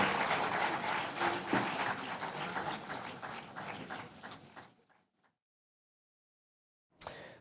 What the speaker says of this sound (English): A round of applause to our brand new Chief Justice of the Republic.